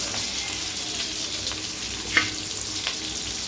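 Small shallots sautéing in a pan for a tamarind curry, a steady close sizzle with a few soft stirring clicks and no talk.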